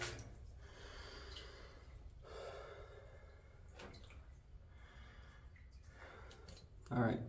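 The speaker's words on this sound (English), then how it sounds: "sorry for the heavy breathing" Heavy, labored breathing of a person crawling through a tight cave, repeated close-up breaths and sighs in an uneven rhythm, faint overall, with a louder gasp near the end.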